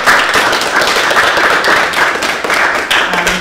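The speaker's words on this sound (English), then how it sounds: "If we could engage in a round of applause for our three artists." An audience claps for three artists at an art show event, a loud, continuous round of hand claps up close, with individual claps standing out in an even, sustained patter.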